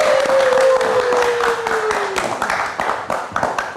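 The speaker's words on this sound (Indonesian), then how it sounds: "Kita kasih tepuk tangan lagi untuk Fadila Intan" A studio audience at a live late-night talk show applauding a guest, a steady wash of clapping that tapers near the end, with a sustained tone gliding down beneath it.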